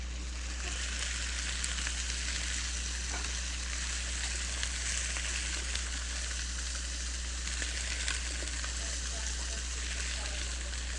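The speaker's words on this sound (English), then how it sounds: "I can't hear you over this sizzling." Food sizzles and fries steadily in a pan during pressure-cooker meal preparation, a loud, continuous crackling hiss that carries on without pause for the whole stretch.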